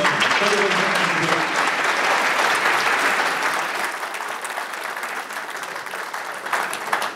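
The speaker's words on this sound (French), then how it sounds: "Gabriel Attal, que je vous demande d'applaudir." A large crowd at a CRIF event applauds steadily, a dense wash of clapping that starts loud and gradually eases off toward the end.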